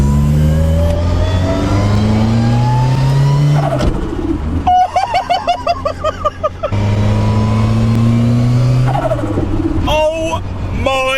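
A Ford Sierra estate with a 500 bhp Cosworth engine revs hard through the gears, loud and close, with rising engine pitch, a burbling gap between shifts, then pulling hard again.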